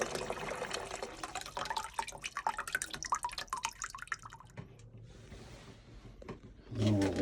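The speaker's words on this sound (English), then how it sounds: "Still draining from outside." Water drains and drips from camp buckets while a camp is winterized, with irregular close drips and trickles, quieter in the middle and picking up again at the end.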